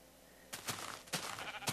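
A couple of short sheep bleats from the Minecraft video game follow a quiet start, each a brief nasal burst, fairly close and clear, with no talking.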